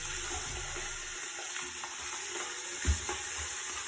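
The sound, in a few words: 2 pounds ground beef sizzling in Instant Pot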